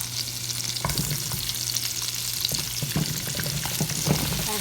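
Onions and potatoes crackle and sizzle in a soup pot over medium heat, a dense, close frying hiss with intermittent stirring knocks.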